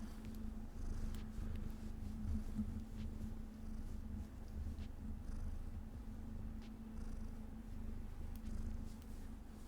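Close, continuous purring from pet cats, a soft rhythmic rumble that holds steady with faint rustling on top and no voices.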